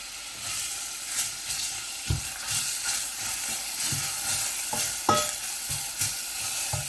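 Onion and rosemary frying and sizzling in a pan for a meat jus, with a steady hiss broken by occasional stirring scrapes and soft clinks, close and moderately loud, with no talk.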